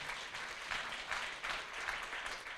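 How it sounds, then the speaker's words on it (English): An audience at the Teach To Reach education summit in 2016 gives a round of applause. The clapping is soft and distant but sustained, a continuous crackling wash with slight swells. "a round of applause"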